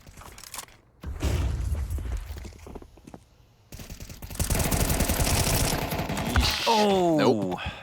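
A rifle fires through a full 20-round magazine in Counter-Strike 2 on the Inferno map, with rapid shots rattling in a dense burst midway through, mixed with game effects and commentators talking.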